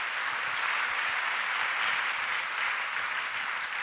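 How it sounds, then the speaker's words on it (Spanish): A church congregation claps in a steady, dense wash of applause during a Spanish-language service, fairly faint and continuous with no talk over it. "Démosle un aplauso fuerte a nuestro Dios en esta mañana."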